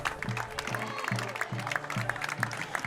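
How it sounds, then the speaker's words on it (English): Polite applause from a thinning crowd at Charlie Murphy Stadium after a high school football game, a soft, diffuse patter of clapping heard at a distance under a low rhythmic hum of background sound. "Polite applause from those still left here at Charlie Murphy Stadium"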